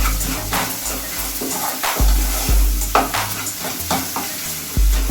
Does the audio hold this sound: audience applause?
no